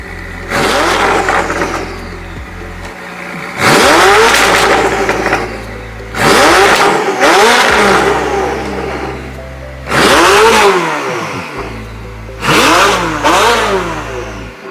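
A sports car engine revs hard in five separate bursts, each climbing sharply then falling back to a rumbling idle between them, loud and close.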